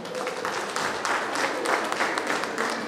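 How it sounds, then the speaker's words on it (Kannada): Steady applause from an audience at a school teachers' tribute reunion, honouring the welcome speaker, a moderate unbroken patter of many hands clapping with no clear speech. "ಚಪ್ಪಾಳೆ ಮುಖಾಂತರ ಅವರಿಗೆ ಒಂದ್ಸತಿ ಚಪ್ಪಾಳೆ ಹೊಡಿಬೇಕು"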